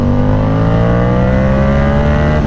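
A Yamaha R7 motorcycle accelerates hard in second gear, its engine note climbing steadily through the mid rev range as a loud, continuous, close-up drone with rising harmonics and heavy wind rush, no talking.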